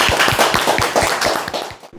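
A small audience claps to close a local government tour event for Nonsan city in South Chungcheong, a quick run of sharp, fairly loud hand claps in an uneven rhythm that trails off at the end.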